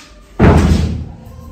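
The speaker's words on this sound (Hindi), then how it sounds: "दरवाजा बंद करें" A door shut at night in a house full of guests: one loud, close slam with a heavy thud that rings out and fades over about a second, no talking.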